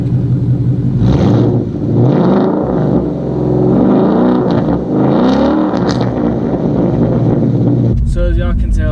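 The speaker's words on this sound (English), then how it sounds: "I went ahead and bought a X pipe, and I got a muffler at the same time, so I wanted a better sound" A 2017 Ford Mustang GT fitted with an X pipe and aftermarket muffler rumbles loudly and revs up and down in deep, throaty swells, close to the microphone with some wind noise, before a voice starts speaking at the end.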